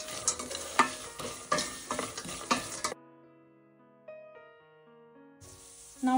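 A spoon stirs a makhana chivda mixture of roasted lotus seeds and spices in a hot pan, with scraping and light sizzling for about three seconds, then the stirring stops and a soft melodic tune plays alone.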